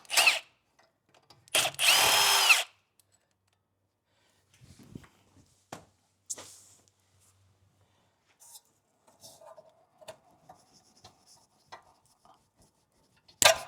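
Power tool bursts from an impact wrench loosening a bracket bolt on a Toyota Tacoma during a CV axle replacement: two loud rattling bursts near the start, then quiet garage clinks and brief taps.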